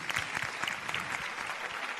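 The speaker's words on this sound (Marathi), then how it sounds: "या दोघांसाठी जोरदार टाळ्या झाल्या पाहिजेत" Audience applause at a Marathi televised singing competition, a dense, steady burst of clapping from a crowd filling the whole stretch with no voices on top.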